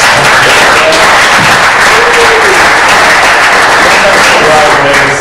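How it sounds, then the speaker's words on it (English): A round of applause for Nick at a CSU weekly meeting at Mt View High School, steady dense clapping from a crowd filling the room throughout without a break. "I think we just need to give a round of applause to Nick."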